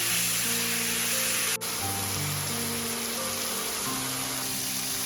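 Three tomatoes for a South Indian chutney sizzle steadily in a hot pan, a continuous loud hiss with one brief sharp click partway through, no voices.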